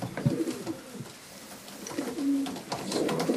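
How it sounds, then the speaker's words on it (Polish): A Janssen De Klak racing pigeon from the year 2000 cooing: repeated soft, throaty coos heard close by against a murky background. "To jest oryginalny gołąb deklak."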